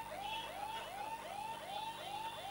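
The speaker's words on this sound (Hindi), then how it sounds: "असल में ये फायर ब्रिगेड की गाड़ियां शायद इसलिए आ रही है" A fire brigade truck's siren wails in a steady, fast repeating rising sweep, heard continuously and somewhat distant over a low background hum, with no talking.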